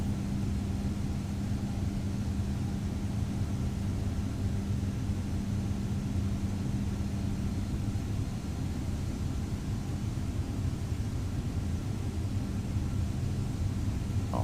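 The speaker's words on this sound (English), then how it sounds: "I'm going to go ahead and give the engine some power now" Airbus A320neo jet engines spooling up in Microsoft Flight Simulator, a steady loud roar with a low hum, continuous throughout as the airliner taxis, no voices.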